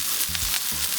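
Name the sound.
duck breast sizzling in duck fat in a pan on a Kamado grill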